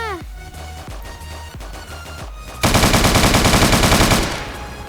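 Rapid automatic gunfire in the Roblox video game, fast repeated loud shots bursting in after a few slower single reports, with a voice talking over the action.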